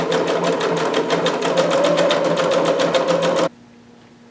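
A sewing machine stitches fabric in a close, loud, rapid rhythmic run that stops abruptly near the end, leaving a faint hum.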